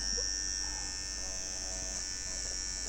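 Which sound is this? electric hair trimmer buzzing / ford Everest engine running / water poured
electric hair trimmer buzzing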